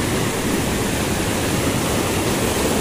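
A river below rushes with dense, steady broadband water noise, loud and close, with no voices.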